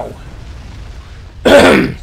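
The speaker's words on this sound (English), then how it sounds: "I'm saying sorry about my cough" A short throat-clearing cough bursts out loudly near the end, close to the mic, after a stretch of quiet background sound from a Supreme Commander: Forged Alliance Forever match.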